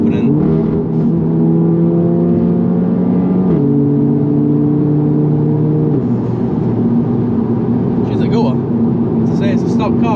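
Audi S3 8V with a straight pipe exhaust and the valves open, idling and blipping with a steady low drone that shifts pitch in steps, loud and close, with a brief burst of talk near the end.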